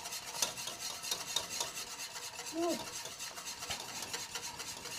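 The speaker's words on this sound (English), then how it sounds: "Just whisking the entire time. until that's nice and smooth." A whisk stirs steadily through a thickening sauce for blanquette de veau, a veal stew, giving a close, continuous scraping and swishing with small rhythmic clinks against the pan.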